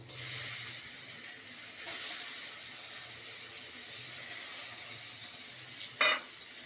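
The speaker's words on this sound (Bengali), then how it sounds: "এই ঘিয়েতে ভেজে নেব।" Grated coconut fries in ghee in a pan for sona mung dal, giving a soft continuous sizzle and hiss with a gentle stir and one brief sharp metallic clink near the end.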